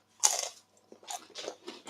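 Crisp potato wedges are bitten with a loud, close crunch, followed by several softer crunching chews in an uneven rhythm.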